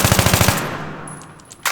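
An AK assault rifle in Battlefield 3 fires a rapid automatic burst of about eight close, loud shots in quick even rhythm, followed by a ringing tail and a faint click.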